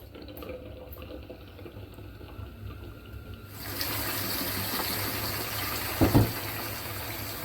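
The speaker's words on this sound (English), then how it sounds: "I'm just going to run some fresh water" Water from a kitchen tap starts gushing into a sink partway through, a steady close splashing rush after a quieter stretch with faint handling noises, plus a brief clunk near the end.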